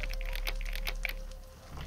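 Lock picking in The Dark Mod stealth game: a run of small, crisp metallic clicks and ticks in quick irregular succession over a steady low hum, close and fairly quiet, with no talking.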